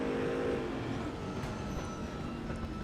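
A Chevy V8 race engine in a Corvette at Brands Hatch roars as one steady, dense drone with no gaps or talk.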